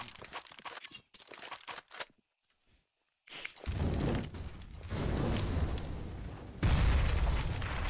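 A grenade blast in a Counter-Strike match on the Cache map, with sharp scattered pops, a short near-silence, then a heavy booming explosion and a long rumbling roar that swells again, with no talk.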